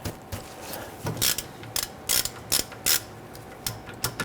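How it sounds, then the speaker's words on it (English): A 1/2-inch ratchet wrench with a 14mm deep socket loosens a brake hose bolt on a 1994-2004 Jeep Grand Cherokee, giving about eight short bursts of loud, close metallic clicking in uneven succession, with no talking. "We use a 14mm deep socket on our 1/2" wrench. And we want to go ahead and loosen this."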